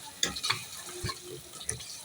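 Turmeric and green chili masala stirred in a pot, with a few soft scraping and clinking strokes over a quiet sizzle, close and brief, with no talk.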